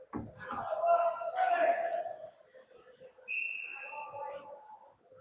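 A referee's whistle blows for offsides during a high school hockey game in an arena, one steady shrill tone lasting under a second amid voices and rink echo.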